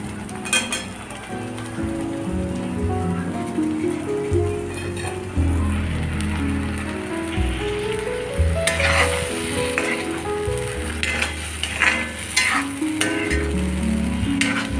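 Potatoes and capsicum sizzle in spiced oil in a pan while being stirred, giving a steady crackling hiss broken by scraping and clattering strokes, with soft tonal background music underneath.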